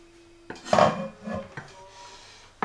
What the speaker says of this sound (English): I'm just going to spoon out some lentils.